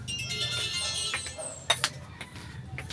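A mobile phone's text message notification tone chimes in a quiet home, a bright electronic melody sounding alone, followed by a few faint clicks and small rustles.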